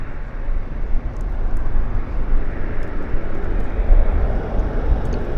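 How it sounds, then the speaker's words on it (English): Aircraft engines roar at Vancouver International Airport in a steady, broad rumble that fills the whole clip, loud and continuous with no speech. "I hear engines."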